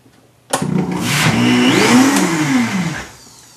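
A Vitamix blender runs with water and dish soap, starting abruptly into a loud, close motor roar whose pitch climbs and wavers for about two and a half seconds before winding down.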